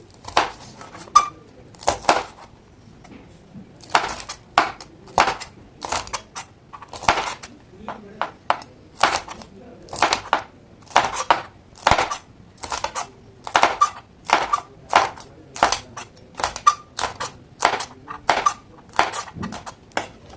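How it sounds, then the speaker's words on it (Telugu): Green chillies are sliced thin with a knife on a board, a run of sharp, fairly close chopping taps coming in quick irregular bursts with short pauses. "ఇప్పుడు పచ్చిమిరకాయలు ఒకటి కట్ చేసుకుందాం"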